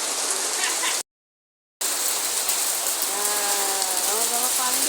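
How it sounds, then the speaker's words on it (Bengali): Steady, heavy rain of the season's first downpour hisses across the surroundings, close and continuous, cut by a short silent dropout near the start; a voice chimes in faintly toward the end. "কি বৃষ্টি দেখেছো?"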